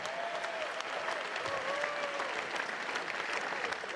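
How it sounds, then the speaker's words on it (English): A boxing arena crowd applauds both fighters after a twelve-round bout, a continuous wash of distant clapping with faint cheering and an announcer's voice in the background. "Let's have a round of applause for both fighters."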